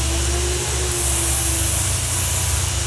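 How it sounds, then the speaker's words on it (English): Protection product sprayed onto a car panel near the wheel, a loud continuous hiss of an aerosol or trigger sprayer lasting the whole stretch, close up and alone. "If I spray them both here"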